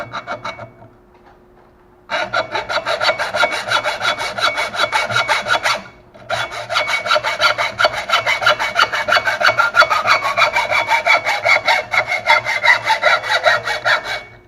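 A hand hacksaw cuts metal for a model aircraft landing gear repair beside a milling machine, with steady rapid back-and-forth rasping strokes, loud and close, pausing briefly twice before resuming.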